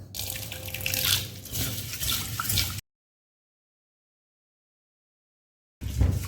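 Rice is rinsed in water at a sink early in the morning, with running tap water and sloshing grains heard for about three seconds, then silence, then the water sound returns briefly and loudly near the end.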